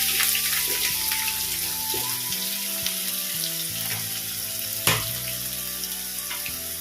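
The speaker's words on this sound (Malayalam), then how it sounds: "സവോള അരിഞ്ഞ് ചേർത്ത് നന്നായിട്ടൊന്ന് വഴറ്റിയെടുക്കുക." Chopped onions sauté in a pan for bitter gourd thoran, giving a close, steady sizzle with occasional stirring scrapes and one sharper clatter.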